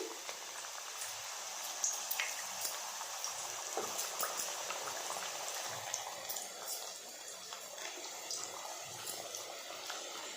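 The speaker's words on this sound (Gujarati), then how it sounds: "એક એક કરીને પૂરીને તેલની અંદર તળવા માટે મૂકીશું" Soft, steady sizzling and bubbling of bajra (millet flour) puris deep frying in hot oil in a kadai, with scattered small pops, fairly quiet and close.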